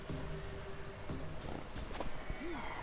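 In a PS4 video game, a horse's hooves clip-clop in quick repeated steps, then a short rising-and-falling whinny sounds near the end, over a soft game music bed.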